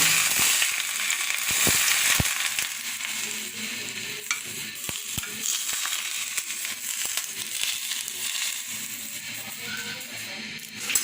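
Hot oil poured onto a vinegar mixture for homemade chicken manchurian momo sizzles and crackles steadily for the whole stretch, close and fairly loud, with scattered sharp pops and no talking.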